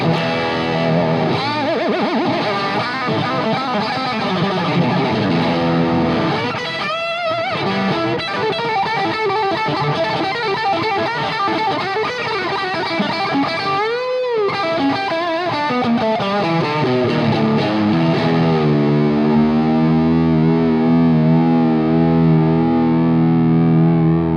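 Heavy rock guitar amp noise of the kind that ends a concert: a loud, continuous distorted roar with swooping feedback and shifting pitch sweeps, sustained throughout with no talking.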